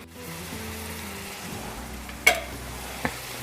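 Tomato masala sizzles gently in oil over a low-medium flame, a steady soft frying hiss with two brief stirring clinks near the end.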